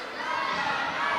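Crowd at a wrestling show in Balbriggan, Ireland, cheering and shouting in a steady, dense roar, with some higher children's voices in the mix.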